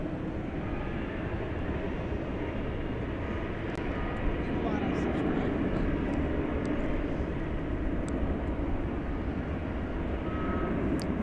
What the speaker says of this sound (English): This will be an Airbus A321neo.